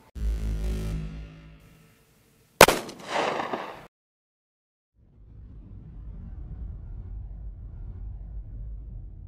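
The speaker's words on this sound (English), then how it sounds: "We're going to fire it through a Springfield Armory XDS." A single sharp pistol shot from a Springfield Armory XDS firing Speer .45 Auto 230-grain Gold Dot short-barrel rounds, a loud crack with a brief echoing tail, standing alone after a low rumble and before quiet background noise.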